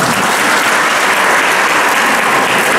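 Loud, dense applause from a church leadership retreat audience welcoming a speaker, continuous clapping that fills the room evenly throughout with no talk.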